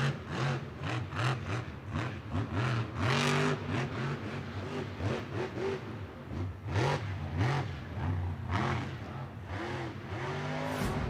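A Grave Digger monster truck driven in a Monster Jam freestyle run on a muddy arena floor roars with loud, surging revs that rise and fall continuously, its engine dominating a noisy stadium crowd.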